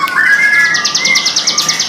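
Ciblek Gunung songbird calling inside a bird shop, a bright, close whistled phrase followed by a quick series of rapid repeated chirps, loud and clear over little background noise.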